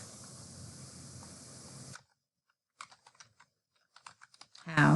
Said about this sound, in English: you'll type Greyhound